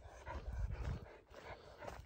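A dog tied at the waist pulls hard on its leash over rocky ground, giving short breathy huffs and scuffling steps. The sounds come close and fairly faint, with no talking.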